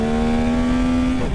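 A Yamaha Tracer 9 GT+ motorcycle pulls hard in first gear, its engine holding a loud, steady, rising tone close by for about a second before the pitch drops off as the throttle eases, with no talking.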